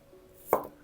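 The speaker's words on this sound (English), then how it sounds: "Chop thinly." A single knife stroke chops through a chili on a cutting board, a brief close thunk in quiet.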